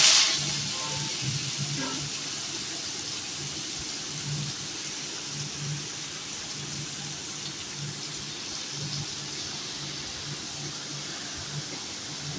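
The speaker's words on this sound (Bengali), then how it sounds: "সোয়াবিনগুলোকে ভালো করে নুন হলুদ মাখিয়ে একটু ভেজে নেব" Soybean chunks coated with salt and turmeric fry lightly in hot oil in a pan, giving a soft, steady sizzling hiss that runs on evenly with no talking.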